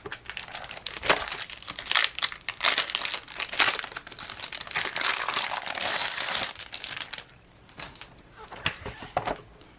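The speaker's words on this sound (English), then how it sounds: "We can go ahead and take it out of the packaging." Plastic packaging crinkles and crackles loudly and continuously as printable magnetic sheets are pulled out, close up, easing into softer rustles near the end.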